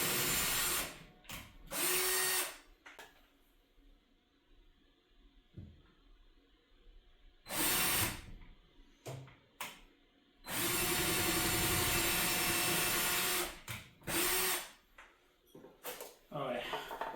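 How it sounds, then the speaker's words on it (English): Power drill boring holes into a garage ceiling while mounting an LED garage light, with several loud bursts of drilling, the longest lasting a few seconds, separated by quieter gaps where a person talks. "then I'll drill it there according to the template"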